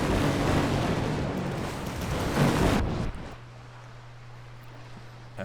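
Battleship gunfire in the Victory At Sea Pacific naval game: a loud, sustained roar of heavy cannon blasts rumbling for about three seconds, then cutting to a quieter steady low engine hum.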